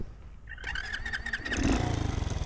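A custom 1967 Honda CT90 motorcycle with a swapped YX140 engine cranks and fires up, then settles into a loud, close, pulsing idle, with faint birdsong in the background.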